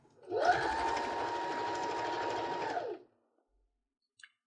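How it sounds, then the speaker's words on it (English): A sewing machine stitches through layered quilt fabric in one steady, continuous run of about two and a half seconds, then stops abruptly, leaving near silence with a faint click at the end. "So I'm just going to sew these other seams"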